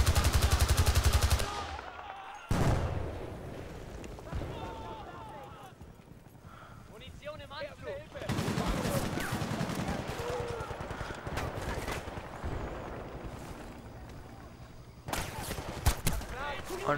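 M16A1 and AK47 fire in Battlefield Bad Company 2 Vietnam, with a loud burst of rapid automatic shots at the start and later volleys among game noise, and someone talking over parts of it.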